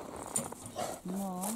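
A dog gives a short whining yelp close by, amid people talking outdoors on a farm with cows and calves.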